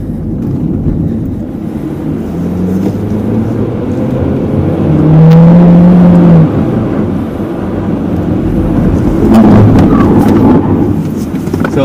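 A car laps a wet handling course on Michelin tires, its engine and tire noise a steady loud rumble with a swelling pass midway, no talk over it.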